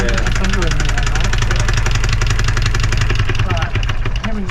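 A sailing boat's engine idles loudly with a rapid, steady chugging pulse, close by, while people talk over it.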